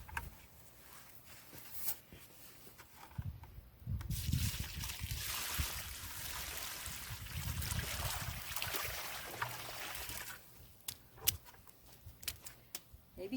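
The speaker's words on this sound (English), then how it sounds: "Now we're going to give this tree a good soaking" Water pours onto the ground to soak a newly planted tree outdoors, rising into a steady, rushing splash for several seconds in the middle, with quieter trickling and small knocks before and after.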